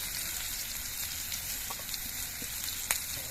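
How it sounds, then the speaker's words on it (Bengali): Green chillies, slit and freshly added, frying in a wok (kadai) with mixed vegetables, giving a steady close-up sizzle with faint crackles and a small pop near the end. "এবার এর মধ্যে দিয়ে দিচ্ছি চারটে চেরা কাঁচা লঙ্কা"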